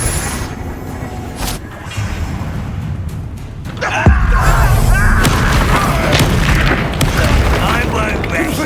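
Confringo fire spell in Hogwarts Legacy going off as a heavy booming blast about midway, followed by a sustained roaring, crackling rumble amid combat noise.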